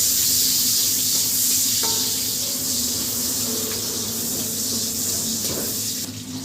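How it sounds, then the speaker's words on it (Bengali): Chopped onion hits hot oil in a home kitchen pan while cooking prawns with dried fish, giving a steady, close, broad sizzle that continues evenly throughout. "এই দেখো, পেঁয়াজটা দিয়ে দিলাম তেলে।"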